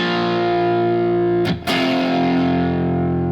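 Heavily distorted electric guitar plays a riff, thick sustained chords that cut off briefly for a quick choked scrape, then ring on loud and close.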